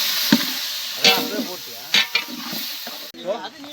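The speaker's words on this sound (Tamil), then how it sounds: "சிக்கன் ஆட் பண்ண போகிறோம்" Chicken is added to ginger-garlic paste in a pan over an outdoor riverbank cooking fire and stirred, giving a hissing sizzle with scraping strokes and bursts of spatter, fairly close, with a voice briefly audible.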